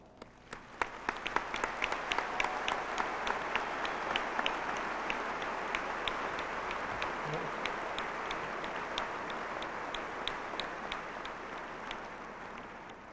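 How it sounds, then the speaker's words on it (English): Sustained applause from a graduation audience for the families of the class of 2001, a dense steady wash of many hands with a few sharper claps standing out, rising quickly and holding evenly to the end. "Please join me in recognizing these groups of people with applause"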